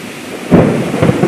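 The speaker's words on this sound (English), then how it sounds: "That was a lightning strike." Sudden loud crack and rolling boom of thunder from a close lightning strike during a severe thunderstorm, preceded by a quiet moment and trailing into rumbling with rain noise.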